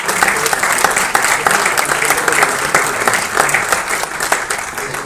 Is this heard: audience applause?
yes